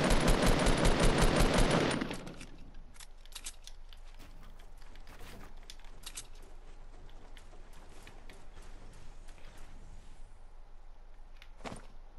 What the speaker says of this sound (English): Somebody else is shooting them, I think.